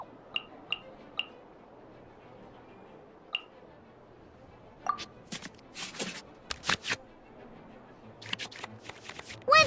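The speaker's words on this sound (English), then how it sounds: "we can select any number of cards in our hand to shuffle back into the draw pile" Digital card-game effects in the Genius Invokation TCG video game as cards from the hand are shuffled back into the draw pile: a few soft isolated clicks, then a flurry of quick papery swishes and taps, faint and close.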